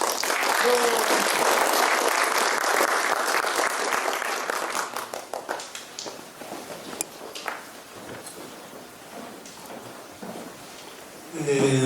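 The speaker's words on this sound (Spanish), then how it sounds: "a quien les recibimos con un voto de aplausos" An audience at a talk on medicinal plants and the Inca Garcilaso de la Vega gives dense applause in welcome, loud for about five seconds and then thinning out, with a voice speaking near the start and at the end.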